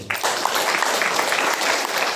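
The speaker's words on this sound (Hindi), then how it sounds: "चलो ताली मारो।" Audience applause at a religious congregation in Pune, steady brisk clapping from many hands, close and continuous with no talk over it.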